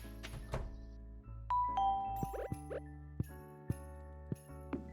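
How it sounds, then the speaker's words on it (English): Jingle bell chimes from Cinder Clown shoes worn by a character in a video game, bright tinkling rings repeating at intervals over steady game background tones, with several sharp ding-like hits. "one of the clothes you're wearing making a jingle bell sound?"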